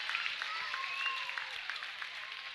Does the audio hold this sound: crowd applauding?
yes